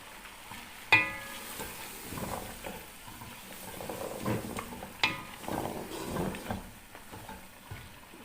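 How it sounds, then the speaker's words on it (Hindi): Yogurt and spices frying in a pot for a beef bong curry, with a soft sizzle and occasional stirring scrapes, including two sharper clinks near the start and middle, moderately close with no talking. "अब दही को और मसाले को हम अच्छे से भुनने देंगे। ये देखें जी दही भुन रही है"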